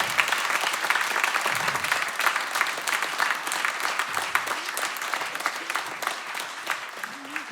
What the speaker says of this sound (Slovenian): En aplavz za naše donatorje.